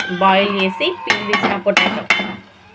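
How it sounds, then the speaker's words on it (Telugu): Boiled, peeled potatoes, about four of them, tipped into a pan of salted, chilli-spiced masala for a potato curry. Close clattering and clinking of a utensil against the pan, with several sharp knocks in quick succession and no talk. "ఇప్పుడు బాయిల్ చేసి పీల్ తీసిన పొటాటో వేయాలి"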